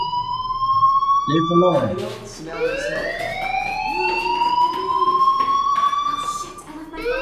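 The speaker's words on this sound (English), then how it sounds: "Hey, do you hear that fire alarm? That means you should be outside." A fire alarm in a video game gives off steady electronic tones that climb and repeat, sounding continuously at moderate loudness under a person talking.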